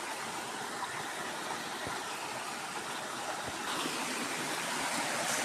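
Water sprays and hisses steadily from a punctured hose in a forest, a continuous broadband rushing that swells slightly louder toward the end, with no talk.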